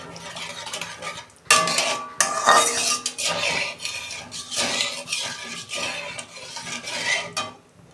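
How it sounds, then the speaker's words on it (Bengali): Water goes into a cooked-down spiced masala in a hot pan for a tengra fish curry, with bursts of hissing sizzle and clanking utensil stirs close by. "আমি জল দিচ্ছি, পরিমাণ মতো জল দিচ্ছি"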